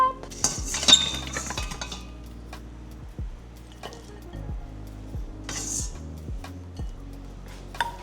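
Food being dished up from a meal prep of potatoes, veggie muffins and lamb chops, with clinking plates, pans and cutlery, several sharp clatters and lighter taps spread through a quiet kitchen.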